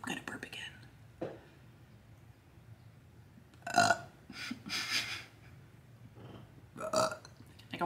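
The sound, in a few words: burp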